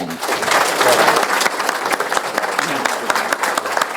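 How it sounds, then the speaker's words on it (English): Audience applause for speakers at a radio reunion event, loud and close, a full room clapping steadily for several seconds with a murmur of voices underneath. "So give him a nice big round of applause"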